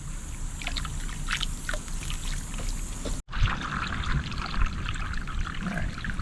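Fluid pours and trickles steadily out of a skid steer hydraulic system being flushed, a continuous close splashing stream with a brief break midway before the flow resumes.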